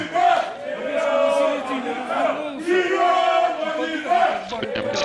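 A massed chorus of Metallurg Magnitogorsk supporters chants in the stadium stands, loud, rhythmic phrases repeating several times in quick succession.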